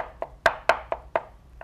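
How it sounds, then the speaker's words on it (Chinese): Peeled fresh shrimp being chopped into paste with a cleaver on a board for crystal shrimp dumplings: about seven firm, close knocks in a quick, slightly uneven rhythm, with nothing else heard. "一份剁成虾泥"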